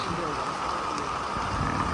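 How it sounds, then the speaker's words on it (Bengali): Heavy rain pours onto a trawler boat on Chalan Beel during a sudden storm, a dense, loud, steady hiss of drops drumming on the deck and canopy, with a voice speaking over it. "বৃষ্টি মানে আকাশ ভেঙে বৃষ্টি নামছে"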